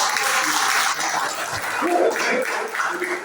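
A worship congregation claps together through a church youth service, a dense steady wash of applause that holds fairly constant throughout, with faint voices mixed in underneath.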